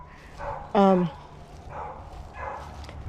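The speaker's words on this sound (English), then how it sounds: "Somebody's dog is picking up on my voice. Thinks I'm an intruder." A neighbour's dog lets out one short, loud yelping bark from nearby in a garden, with a person talking before and after it.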